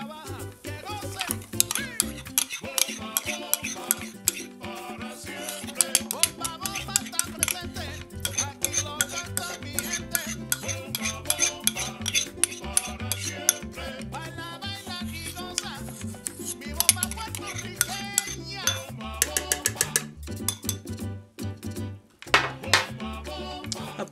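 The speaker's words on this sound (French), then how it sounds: "Avec le fouet, on vient remuer le tout." Wire whisk stirring melted chocolate into a sweetened condensed milk mixture in a pot, rapid clinking taps against the metal going on steadily over background music.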